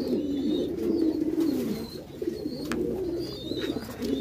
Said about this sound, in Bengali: দেখতে পাচ্ছেন খুবই সুন্দর কোয়ালিটি মাল্টিস পেয়ার